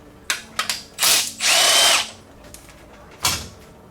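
A power tool spins out a bolt from a cylinder head during a head swap, giving a few short bursts of whirring followed by one longer run and a final brief burst, close and loud.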